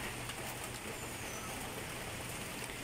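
Steady, non-stop rain falls during bad weather, a dense even hiss of drops on surfaces throughout, fairly soft and with no voices.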